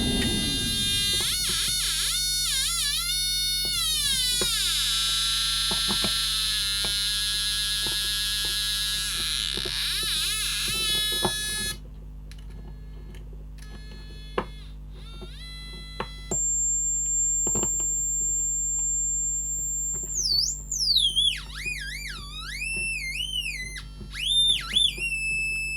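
Electronic tones from an ICL8038 signal generator kit: buzzy, harmonic-rich waves sweep up and down, then steady pure tones and warbling whistles over a constant low hum.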